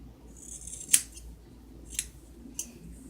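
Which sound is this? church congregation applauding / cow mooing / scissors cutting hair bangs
scissors cutting hair bangs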